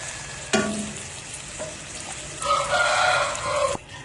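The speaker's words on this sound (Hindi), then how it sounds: "इनको हम लो हीट पे सुरख करेंगे और सुरख करने के बाद इनको हम डिश आउट करेंगे।" Gol gappay (pani puri) puffs fry in oil on low heat, a steady bubbling sizzle with brief scrapes and louder crackling bursts as they are stirred close by.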